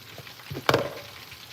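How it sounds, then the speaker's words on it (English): Potatoes frying in a pan, a steady low sizzle with a sudden louder crackling burst midway as more go into the hot oil, then settling back to a soft hiss. "I still have to fry these potatoes"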